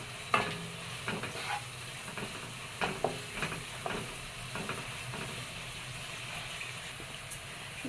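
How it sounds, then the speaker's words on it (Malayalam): Onions browning in sunflower oil, stirred now and then, give a soft steady sizzle with scattered scraping clicks from the spoon against the pan, close by and at low volume. "അപ്പോൾ ഉള്ളി ഏകദേശം ബ്രൗൺ ആയി വരുന്നുണ്ട്"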